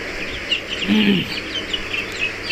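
Chickens in a large backyard coop housing around a hundred birds, with a brief clucking call near the middle over a steady background of small chirps and tweets, moderately loud and close.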